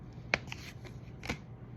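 Tarot cards are shuffled in a couple of brief riffling bursts, close and fairly quiet, with no voices.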